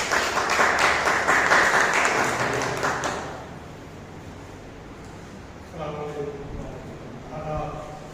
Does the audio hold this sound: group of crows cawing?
no